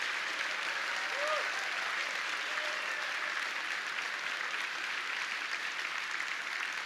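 A hall audience applauds frontline workers of Mel Trotter Ministries at a Season of Hope event, a steady, even wash of many hands clapping that holds throughout.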